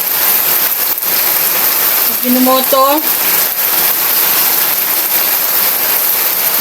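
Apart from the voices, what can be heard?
heavy rain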